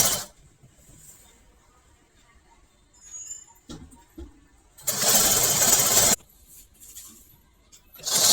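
A sewing machine stitches a folded hem on a toddler's trouser waistband, running in a loud continuous burst of about a second and a half after scattered quieter handling noises, with a few shorter bursts following.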